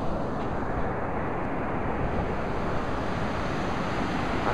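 Rough, choppy sea surf and strong wind at Villa Gesell beach, a dense continuous roar of waves with wind buffeting the microphone, loud and unbroken.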